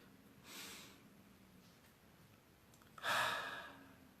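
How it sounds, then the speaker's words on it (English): Slow, controlled meditative breathing, in through the nose and out through the mouth: two soft, airy breaths a few seconds apart, faint and close in a quiet room. "you take slow and controlled inhales through your nose. And then slow and controlled exhale through your mouth"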